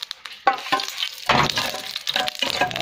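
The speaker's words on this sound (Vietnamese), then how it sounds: "giờ bắt đầu mình dùng mỡ heo mình phi hành nó thơm mọi người nhá" Crackling sizzle of shallots frying in hot pork lard, with stirring scrapes and light clinks of a utensil against the pan.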